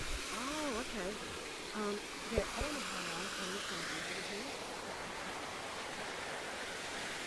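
A waterfall at a snowy Christmas Town light display gives a steady, even rush of falling water at a middle distance. Voices talk briefly over it near the start.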